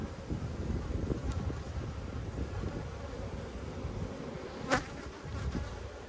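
Steady, even buzzing of many honeybees around an opened hive during an inspection in an Australian apiary, continuous and close with a brief louder pass near the end.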